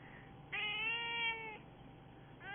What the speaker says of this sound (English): she's a sweet cat